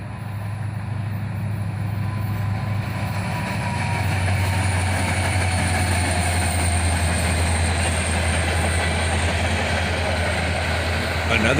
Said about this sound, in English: Another train led by double